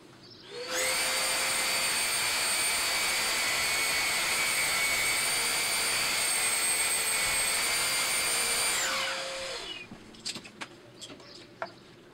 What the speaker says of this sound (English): Do you reckon I can sand that off as a chamfer?